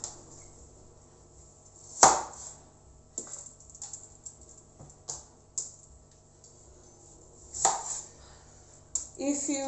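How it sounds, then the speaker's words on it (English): Onions being cut on a board for jollof rice, with irregular sharp knife chops spaced a second or so apart and soft handling noises between them. "Cut your onions"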